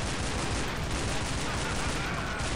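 Rapid, continuous gunfire from a weapon in the video game Counter-Strike Online, loud and dense throughout with no break.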